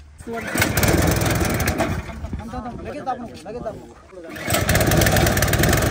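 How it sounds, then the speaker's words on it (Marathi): A new Swaraj mini tractor's small engine chugs loudly and steadily, dipping briefly in the middle before revving back up, with voices talking over it. "आता आपला ट्रॅक्टर चालू केलाय"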